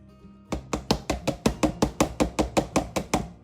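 Tomatoes and limes being chopped for homemade salsa, about sixteen quick, evenly spaced knife strokes thudding on a cutting board, close and crisp after a brief quiet start.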